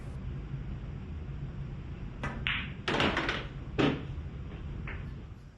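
Pool balls clacking during a stop shot that finishes a runout, a few sharp, fairly near knocks spread over several seconds against a quiet room background.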